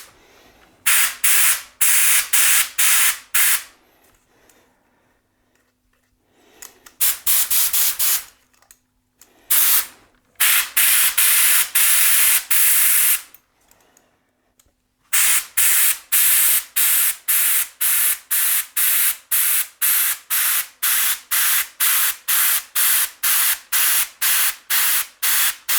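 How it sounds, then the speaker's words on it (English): A pro paint spray gun with its fan closed sprays dots in sharp, loud hissing bursts. Short clusters separated by pauses give way to a long, rapid, evenly spaced run of bursts. "And let's try to spray dots."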